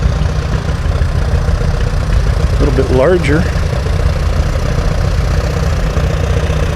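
An old tractor idles at a tractor show with a loud, steady low engine rumble, while someone speaks briefly close by.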